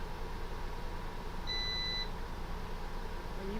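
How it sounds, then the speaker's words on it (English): A UPS battery backup gives a single thin electronic beep lasting about half a second, faint over a low steady room hum. "One of my UPSs are beeping."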